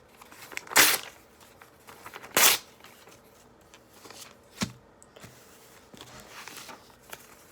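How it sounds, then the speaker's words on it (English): A sheet of paper is shredded and torn by hand, with two loud ripping bursts and then softer crinkles, rustles and small tears, close and without talk. "We can shred the paper, completely shred it."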